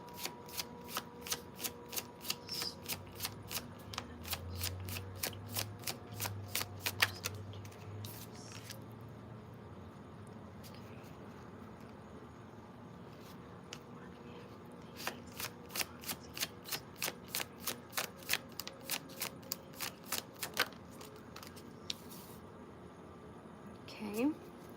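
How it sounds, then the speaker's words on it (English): Tarot cards being moved and shuffled, rapid crisp riffling bursts in two main runs with scattered card flicks between, close and clear, with a voice talking quietly at times. "Okay, I just need to move these cards out my way."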